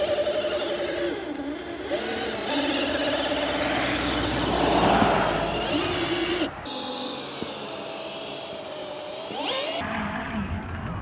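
An FMS FCX10 K5 Chevy Blazer RC truck drives in its dig mode through about two inches of snow, its electric motor whining steadily and rising and falling in pitch, close by and without talk.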